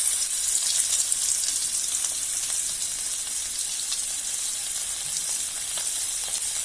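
Mackerel fish crackles in hot oil with an even, continuous hiss, a dense spattering sizzle that holds steady throughout without any voices.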